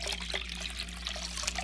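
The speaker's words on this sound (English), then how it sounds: "collect the water straight from the tank, put it in this bowl" Aquarium water from a shrimp tank trickles and splashes steadily into a bowl, a close continuous wet pouring sound over a low hum, with no talking.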